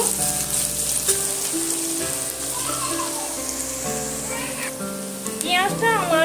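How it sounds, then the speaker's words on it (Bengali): Finely chopped onion fries in hot oil in a pan, a steady crackling sizzle running throughout beneath a tonal voice or background melody. "এবার আমি পেঁয়াজটা এখানে তেলের মধ্যে সুন্দর করে একটু ভেজে নেব"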